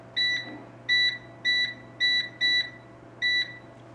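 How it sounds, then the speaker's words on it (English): A kitchen oven timer being set beeps six times in short, bright, evenly spaced tones, clear and close over a faint low hum. "But I'll set the timer for 10 minutes"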